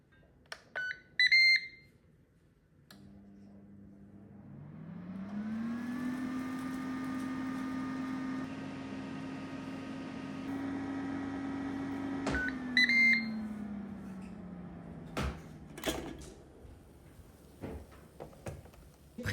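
A Ninja Crispy air fryer starting up: a few short electronic beeps, then a steady motor and fan hum that rises in pitch and holds for several seconds before winding down, with more beeps and clicks near the end.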